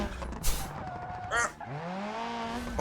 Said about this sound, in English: Now this was terrible braking